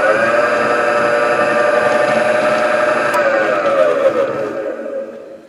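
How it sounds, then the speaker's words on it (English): A Cincinnati Royal drill press spindle spins on a variable frequency drive, giving a loud, steady whine with layered tonal hum that holds evenly, then winds down and fades toward the end. "Got the pot working on the front. You can slow the spindle RPM down."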